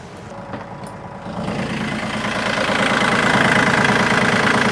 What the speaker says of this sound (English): now that we got the engine running